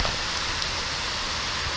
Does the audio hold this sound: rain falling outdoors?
yes